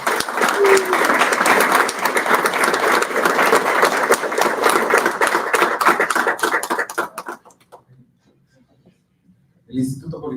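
Loud, sustained clapping from a conference audience after a lecture on parallel image processing, dense at first and then thinning to a few scattered claps before dying into silence, followed by a voice starting to speak.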